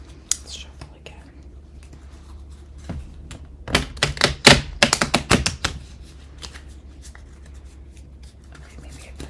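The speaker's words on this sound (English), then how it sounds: "Let's shuffle again." Magic: The Gathering cards riffle and snap close by in a quick flurry of crisp, papery clicks, with scattered softer shuffling before and after and faint whispering.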